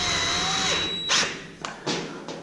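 A cordless drill set to clutch 10 of 22, about half strength, drives a screw into a Gladiator garage storage unit. A steady whir builds, then a few sharp clutch thuds follow close up, with no voices.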